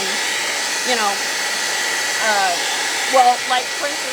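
Hair dryer blowing a steady broadband whoosh to dry paint on a garden urn, running continuously while a voice speaks briefly over it.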